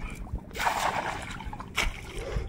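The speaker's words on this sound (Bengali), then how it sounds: "একটা নৌকা যাচ্ছে" Water sloshing and splashing as a small boat moves past on a Sundarbans river, with soft irregular swishes and a brief louder splash near the end.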